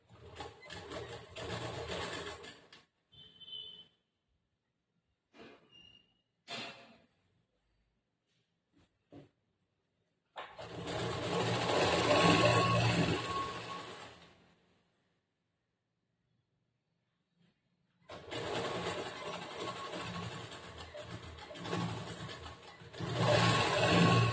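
Sewing machine stitching a plain blouse, running in three long bursts of steady whirring separated by pauses with small clicks and handling noises, close and fairly loud with no talk.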